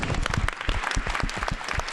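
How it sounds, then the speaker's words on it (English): An audience at the end of a museum panel discussion breaks into dense, steady applause, loud and close, with many hands clapping together. "it is fun to end bonus episodes with a round of applause"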